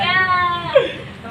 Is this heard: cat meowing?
yes